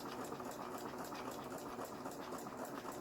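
A Juki HZL-e50 domestic sewing machine stitching a zigzag seam makes a quiet, steady motor hum with a fast rhythmic needle patter, heard alone without speech.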